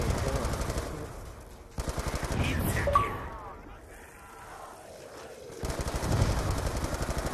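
Rapid automatic gunfire in Black Ops 2 Zombies comes in bursts, with dense firing at the start and end and a quieter lull in between, under players talking.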